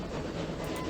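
A train pulls into a station in the Transport Fever 2 game, a steady rumbling rail noise with faint clickety-clack, continuous and fairly quiet throughout the brief moment.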